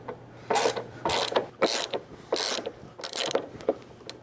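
A ratchet wrench works a Torx bolt loose on a car, with close, loud bursts of rapid clicking in about six regular strokes separated by brief pauses, over a faint steady hum.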